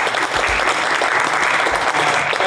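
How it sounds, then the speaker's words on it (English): Audience applause at a university entrepreneurship bootcamp event, steady and dense clapping from a room of people, fairly close and loud, continuing throughout without any voices. "so a round of applause for"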